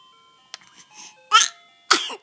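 A baby girl with two teeth lets out two sharp sneezes after a few small vocal sounds and breaths, close up in a quiet room.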